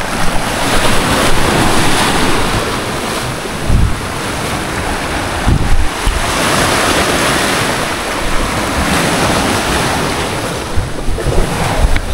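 Steady rushing water at a cemetery, with surf-like washes and gusty wind noise buffeting the microphone, loud and continuous with no voices.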